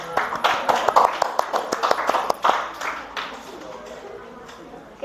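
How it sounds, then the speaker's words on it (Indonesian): A small classroom group claps after a mathematics lesson presentation, a short scattering of sharp individual claps that fades into quiet room noise, with a voice briefly heard. "Baik, tepuk tangan dulu."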